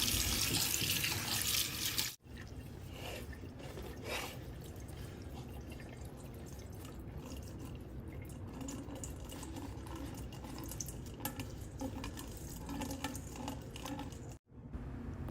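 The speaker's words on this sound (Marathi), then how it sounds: "आपण आता हे पाण्याने थोडंसं धुवून घेणार आहोत" Running tap water rinses freshly shaped dough balls in a kitchen sink, a steady continuous splashing stream with no talk over it.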